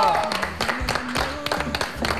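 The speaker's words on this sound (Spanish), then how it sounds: "Fuerte aplauso, por favor," A studio audience applauds a guest singer during an interview show, the clapping coming in uneven bursts mixed with talk.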